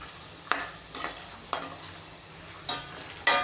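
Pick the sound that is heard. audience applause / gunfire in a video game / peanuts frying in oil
peanuts frying in oil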